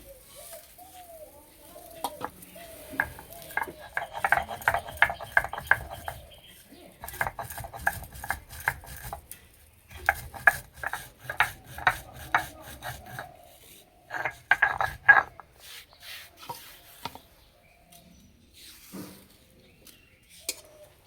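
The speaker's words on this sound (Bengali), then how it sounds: "ভাজা মশলাটা ভালো করে গুঁড়ো করে নেব।" Roasted spices ground into powder for a tamarind chutney, heard as repeated bursts of scraping, rubbing and clinking strokes with short pauses between them, fairly close and with no talk.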